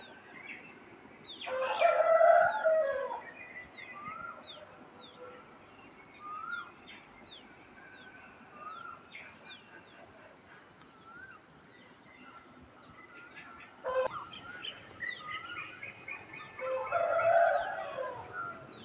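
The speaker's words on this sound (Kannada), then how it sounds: "ಕೋಗಿಲೆ ಸದ್ದು, ಕೋಳಿ ಸದ್ದು ತುಂಬಾ ಚೆನ್ನಾಗಿರುತ್ತೆ ಬೆಳಗಿನ ವಾತಾವರಣ." A rooster crows loudly twice, near the start and again near the end, while small birds chirp and tweet steadily throughout a quiet morning village setting.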